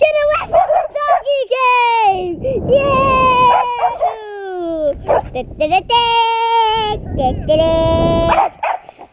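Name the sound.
dog barking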